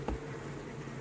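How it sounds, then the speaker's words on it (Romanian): A Carpathian honey bee buzzes close by in a steady drone around a hive, lasting only a moment. "albină asta, regină carpatină"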